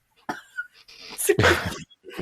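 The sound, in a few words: cat sneezing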